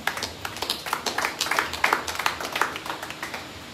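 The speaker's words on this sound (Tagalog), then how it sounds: "isang masaganang palakpak muna doon sa talata" A church congregation applauds during a Sunday service, a short burst of scattered, moderately quiet hand claps that rises, then thins out over a few seconds.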